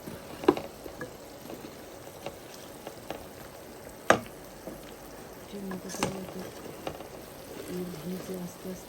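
Dahi vada batter fries slowly in medium-hot oil with a soft, steady sizzle and scattered sharper pops and clicks, with a faint voice at times.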